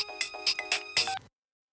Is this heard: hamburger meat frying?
no